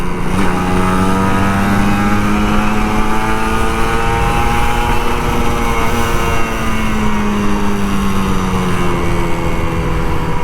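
A Kawasaki Ninja RR 150, an older two-stroke model, revs hard on a morning commute ride. The engine drones loud and close with a steady, sustained pitch and no speech over it.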